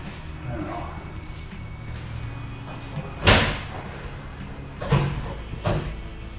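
Electric window mechanism spinning a lever to drive the door lock actuator on an older car without door poppers, giving three distinct clunking thuds, one sharp and two softer, over a low steady hum.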